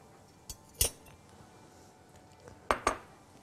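Melted butter is mixed into biscuit crumbs for a strawberry cheesecake base, heard as a few sharp clinks and taps of a utensil against a bowl, close and spaced out over near-quiet.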